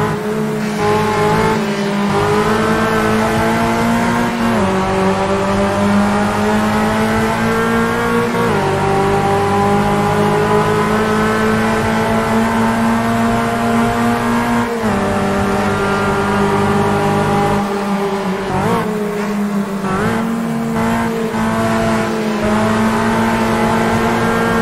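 Aria race car in Automobilista 2 at Cascavel Circuit, its loud engine droning steadily close up with repeated gear shifts and revs rising and dropping through corners, with faint tire noise and no voices.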